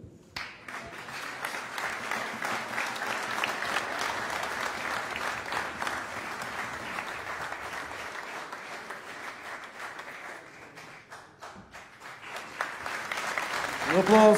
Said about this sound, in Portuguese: Um aplauso, Mário e André.